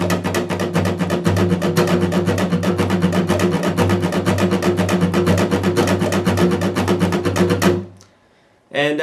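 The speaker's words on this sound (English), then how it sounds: "The main strum pattern here is just going down and up" Electric guitar strummed rapidly in a steady down-up pattern, a dense even stream of bright, evenly spaced strokes played alone at full volume for nearly eight seconds before stopping abruptly.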